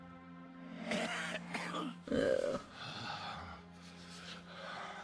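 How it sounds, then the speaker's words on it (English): A World of Warcraft character gives several rough, throaty coughs and grunts in short bursts over a low steady hum. One harsher fit comes midway, and a brief groaning exclamation is heard. "I think that cough is getting worse."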